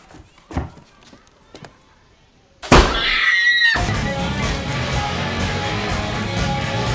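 A child screams in anguish in a scene from the film The Sixth Sense, a loud shrill cry that bursts out after quiet thumps and then gives way to sustained loud, muffled noise.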